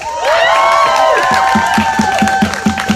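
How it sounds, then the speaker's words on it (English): A protest crowd outside a justice's house cheers loudly with high whoops and shouts, then settles into steady rhythmic clapping and chanting, close and energetic. "we're going to give one more giant round of applause for our amazing speakers"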